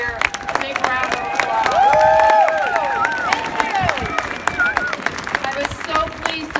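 A crowd claps and cheers for Oregon legislators at a gathering on background check legislation, dense applause rising and holding loudly for several seconds amid crowd murmur.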